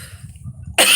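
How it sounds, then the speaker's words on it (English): A single short, harsh cough bursts out close and loud at the end, after a quiet stretch of low room hum. "Sorry, I've got a little bit of a cough."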